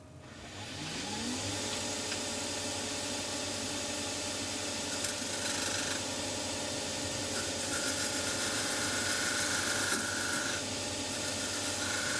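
A wood lathe spins up and runs steadily while a tenon is cut on the base of a three-sided box, giving a constant motor hum with a faint scraping tool edge, close by and without talk.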